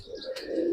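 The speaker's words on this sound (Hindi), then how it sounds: "ये देखें, सबसे पहले कबूतर देखें क्या नायाब कबूतर है" A Punjabi pigeon coos briefly and softly at close range in a pigeon keeper's loft, a short low warble with light chirps over faint background noise.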